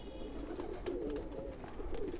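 A khaki pigeon, kept as a pet bird, coos in soft, low, repeated calls close by, with light background noise and no voices.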